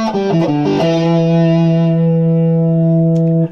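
A heavily distorted electric guitar plays a quick minor pentatonic run using the major third, then holds a sustained, ringing chord that fades slightly before cutting off.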